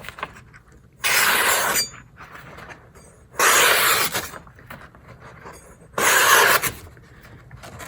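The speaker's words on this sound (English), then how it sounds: "Let's do a paper cutting test and see how sharp it is out of the box." Cold Steel Bushman Bowie knife slicing a sheet of printer paper: three separate crisp, hissing swipes, each lasting under a second, spaced a couple of seconds apart over quiet room noise.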